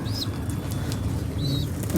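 A crested pigeon with its chick gives a couple of brief, high chirps and a soft flutter of wings over a steady low background rumble.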